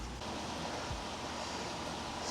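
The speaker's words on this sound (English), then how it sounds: "we're just gonna plug in the irrigation pump and check all of these dripper lines here to make sure they all work" A plugged-in irrigation pump in a hydroponic greenhouse pushes water through drip lines, giving a steady, close, continuous broadband wash of running water and motor hiss throughout.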